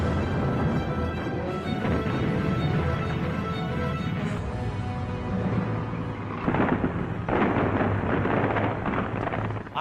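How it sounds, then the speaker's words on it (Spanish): Distant artillery cannon fire from the Soviet counteroffensive at Stalingrad rolls in as a continuous heavy rumble with deep booms swelling through it, loud and sustained throughout with no voices. "las tropas alemanas oyen cañonazos distantes procedentes del noroeste y del sur"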